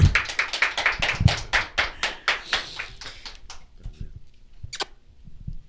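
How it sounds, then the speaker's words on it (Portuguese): A studio audience on a Portuguese-language talk show claps to welcome a guest. Quick, rhythmic claps ring out close and clear, thin out after a few seconds and turn into a few scattered taps. "Uma salva de palmas para ele"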